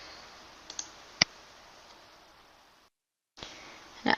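A few soft mouse clicks on a computer, one sharper click standing out, then a brief drop to silence before a final cluster of clicks, with no talking.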